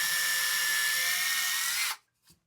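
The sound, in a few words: power drill drilling a hole for a router circle jig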